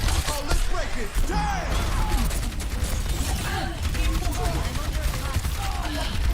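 Symmetra turrets firing in a hectic Overwatch-style game fight: rapid overlapping zaps and gunfire bursts with mechanical clatter, loud and continuous, while players talk over the action.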